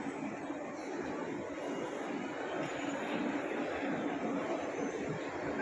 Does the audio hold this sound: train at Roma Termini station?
yes